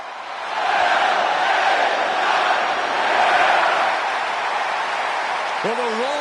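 A loud wrestling arena crowd roars steadily during a WWE SmackDown broadcast, a sustained wall of cheering that swells and holds throughout, with a brief whistle-like tone near the end.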